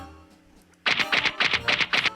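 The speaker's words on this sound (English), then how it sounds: "wood clapper." A wood clapper struck in a Nancy Drew mystery game gives a quick series of about seven sharp, hollow clacks in a steady rhythm, loud and close after a brief quiet lead-in.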